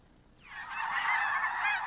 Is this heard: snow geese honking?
yes